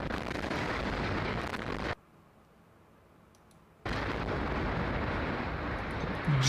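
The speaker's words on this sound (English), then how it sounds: "react to live airstrike footage of the Gaza Strip" Airstrike explosions over the Gaza Strip send out heavy, broadband rumbling blasts. They cut to near-silence for about two seconds, then resume just as loud.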